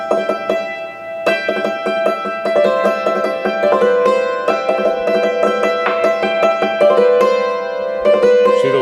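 A hammered dulcimer plays the B part of Cripple Creek, struck strings ringing bright and metallic in a quick, steady run of notes with sustained overlapping tones, loud and close, with no voice.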